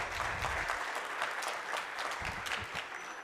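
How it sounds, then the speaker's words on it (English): Fairly quiet, continuous clapping from an audience closing a dialogue session on engaging men against gender-based violence, an even stream of hand claps with no voices over it. "round of applause, round of applause"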